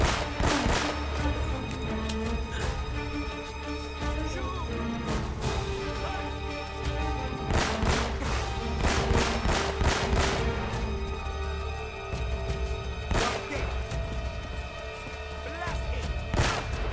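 Gunfire in Uncharted during a shootout at El Dorado, repeated sharp pistol shots cracking in irregular bursts over loud game music and effects.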